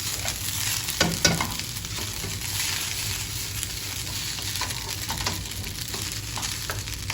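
Chicken stirred into noodles in a hot pan, with a continuous sizzle of frying broken by scraping stirring strokes and a few louder clinks of the utensil, close and unaccompanied by speech.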